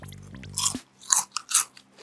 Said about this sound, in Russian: Хорошо хрустит.